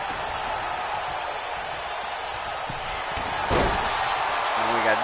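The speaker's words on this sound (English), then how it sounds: "the Butcher slamming him against the apron" A wrestler slammed against the ring apron during a tag team championship wrestling match, landing as one heavy thud partway through, over steady crowd noise and commentary.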